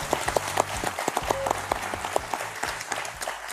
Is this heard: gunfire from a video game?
no